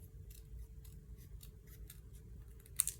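Scissors snip through card paper in a quiet room, a string of quick, soft, close cuts with a slightly sharper snap near the end.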